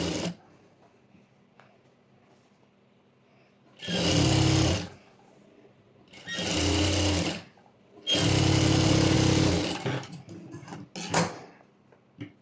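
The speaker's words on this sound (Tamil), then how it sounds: "ஓகே, இப்போ இதை ஸ்டிச் பண்ணிக்கலாம்." A sewing machine stitches a fabric sleeve with canvas in three loud motor bursts, separated by quiet pauses, close up and with no talking.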